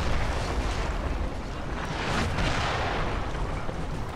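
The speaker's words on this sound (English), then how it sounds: "Already taking some heavy artillery fire." Heavy artillery rumbles without pause across a Napoleon Total War battlefield, with dense overlapping booms and a broad roar that swells slightly midway, loud and unbroken, with no voices.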